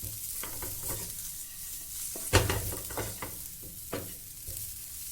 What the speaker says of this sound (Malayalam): ഇനി ഒരു മീഡിയം ഫ്ലെയിമിലിട്ടതിന് ശേഷം ഈ തേങ്ങയുടെ കളറൊന്ന് ചേഞ്ച് ആയിട്ട് വരണം